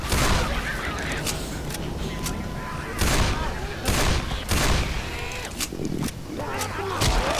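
Rapid gunfire blasting zombie hordes in Left 4 Dead 2, repeated loud bursts of shots every second or so over constant chaotic background noise.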